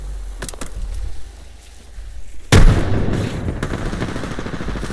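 Gunshots in the battle royale game Apex Legends: a few sharp cracks and then one heavy booming blast with a rumbling tail, loud and close, amid steady in-game background noise.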